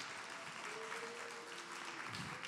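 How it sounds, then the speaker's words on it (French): Faint, distant audience applause at a panel discussion on industry and innovation, a steady wash of clapping throughout with a thin sustained tone running beneath it. "Je pense qu'on peut les applaudir,"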